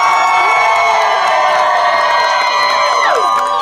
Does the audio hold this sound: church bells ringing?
no